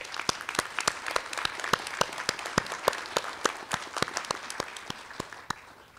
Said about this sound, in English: Let's give a round of applause for those who are here to support our students.